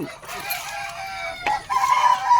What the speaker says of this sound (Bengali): আজকে আমি আসছি আমার বিয়ের মুরগির খামারে।